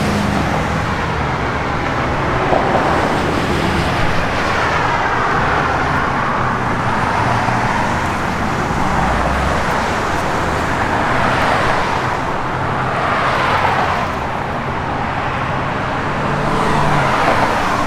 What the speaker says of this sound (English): It's got a good sounding Flowmaster exhaust system on it.